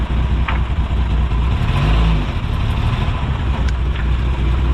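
Toyota FJ60 engine running loud and close as the vehicle creeps backwards and forwards, a continuous low rumble with slight rises in revs and no talk over it.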